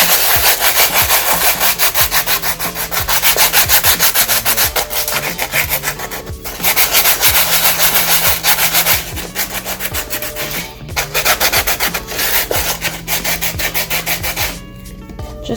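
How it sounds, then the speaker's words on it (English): Sandpaper rubs over a primed mini canvas in close, loud, rhythmic back-and-forth strokes. The scratchy rasping runs steadily and pauses briefly only a few times, with no speech. "I'm just going to take this sandpaper and I'm just going to sand it a little bit"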